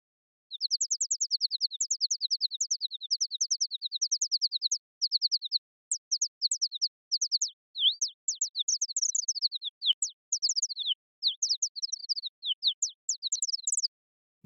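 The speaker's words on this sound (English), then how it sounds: "There you have it. Bird sound." A synthesized blackbird song of rapid, high chirping phrases repeating steadily over the whole stretch, clean and electronic, with no other sound.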